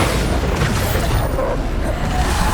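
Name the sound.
Bombarda explosion spell in video game Hogwarts Legacy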